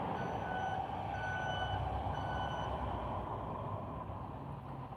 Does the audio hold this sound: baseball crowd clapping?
no